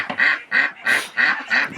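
A young duck quacks five times in a steady, evenly spaced series, loud and close, with no voices over it.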